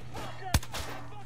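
A single sharp gunshot fired in the video game Metro (Tales of Artyom), one loud crack midway over a steady low game background hum.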